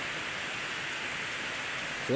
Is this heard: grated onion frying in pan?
no